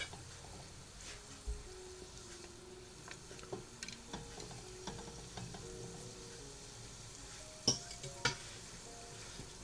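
Barquillo dough frying in hot oil for an Easter sweet, a steady soft sizzle with scattered crackles and faint ticks of a utensil against the pan, close and quiet, with no talking.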